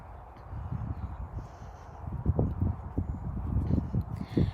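Horse hooves clip-clopping on the footing of a covered undercover arena during a ride, a steady rhythmic series of soft, close thuds with no talking.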